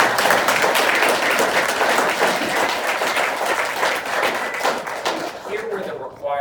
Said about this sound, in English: I want to take a moment to give a round of applause to Palladium.